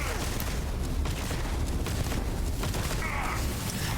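Heavy shotgun blasts and gunfire in the sci-fi video game Starfield, loud and dense throughout, with booming low-end explosions layered in a continuous chaotic firefight.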